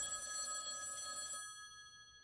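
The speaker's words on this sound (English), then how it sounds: "that phone over there is gonna ring" A telephone bell rings in a tense action-film scene, an electronic trill of bright tones that repeats briefly and then stops, fairly close and clear, with no one talking over it.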